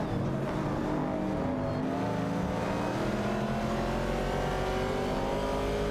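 Race cars, including an Opel Commodore and a Holden Torana A9X, roar continuously in a video game race, layered engine drones rising and overlapping at steady loudness without any voices.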